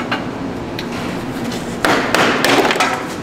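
A hammer strikes a new steel side panel being flanged on a BMW M5 body: scattered sharp taps and dull thuds, close by, growing heavier and more frequent toward the end.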